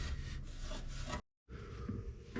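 Old, hardened grease is scraped off the chute of a Honda HSS snow blower in rough, close rubbing strokes that pause briefly and then resume, faint and alone.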